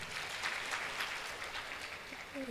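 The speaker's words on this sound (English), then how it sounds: "Please can we give him another round of applause?" A crowd at a young professionals' colloquium in Katsina gives a young speaker a round of applause, a dense, even patter of many hands clapping at moderate loudness for a couple of seconds.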